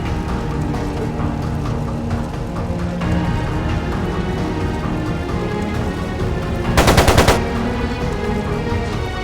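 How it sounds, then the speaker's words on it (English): Machine-gun fire from the video game Trails of Cold Steel II, a steady dense rattle under busy game music and effects, with a loud burst of rapid shots near the end. "It sounded like a machine gun."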